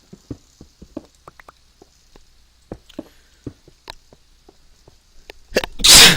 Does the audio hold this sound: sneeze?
yes